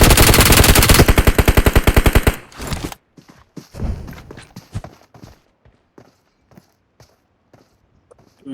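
Loud machine-gun fire in the mobile shooter BGMI, a long fast rattling burst that stops abruptly, followed by scattered quieter clicks and thuds.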